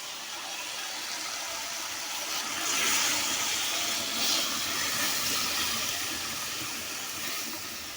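Water poured into a hot cooking pot over an open fire in a mountain village kitchen gives a steady steaming hiss with a couple of louder swells, with no talk.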